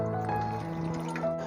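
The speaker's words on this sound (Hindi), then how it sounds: "पानी शामिल करेंगे" Water trickles and drips into gobi pakora batter for cauliflower fritters, a brief close pour with a thin ringing tone under a steady kitchen hum.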